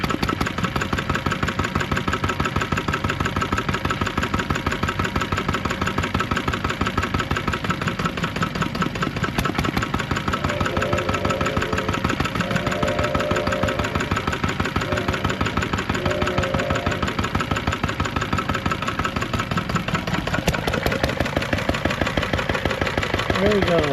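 An antique engine on display at the Midwest Old Threshers show, started with one crank after sitting a year, runs steadily at idle, a close, loud, even chugging that continues throughout with only slight variation in its beat.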